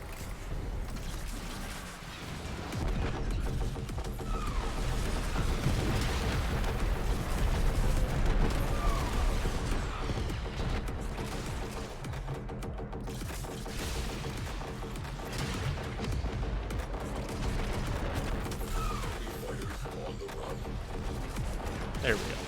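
Barrages of missiles fired in a space combat video game, a dense continuous roar of launches and explosions lasting throughout, with a voice speaking over parts of it.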